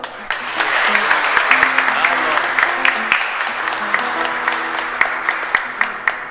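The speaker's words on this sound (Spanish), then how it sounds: "Un aplauso." A congregation at a Catholic Mass in a chapel in Asunción claps steadily for several seconds, a warm, even round of applause with voices faintly mixed in.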